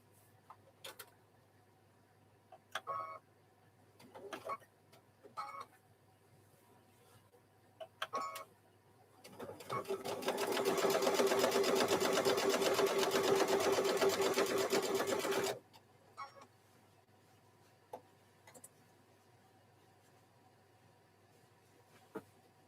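A sewing machine stitches a microwave bowl koozie in one steady, loud whirring run of about six seconds, with quiet handling clicks and taps before and after.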